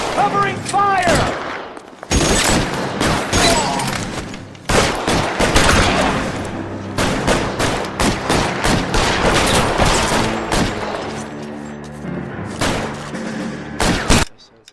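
Dense, rapid gunfire from the video game L.A. Noire, a loud fusillade of overlapping shots and bursts that runs almost without pause for the whole stretch, with faint voices underneath.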